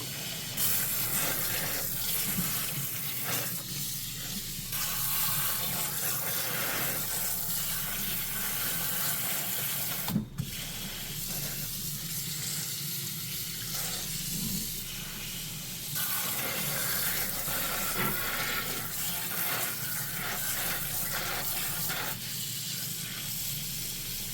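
Hot water runs steadily from a tap while beef tripe is washed, a close, continuous splashing hiss with a single sharp clink partway through. No one speaks.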